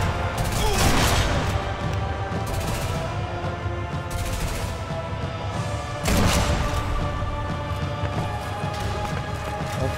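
Gunfire in the Sniper Elite V2 shooter, a steady battle din of repeated shots and rumbling booms. Two sharp loud cracks stand out, one near the start and one around the middle, over continuous background fire.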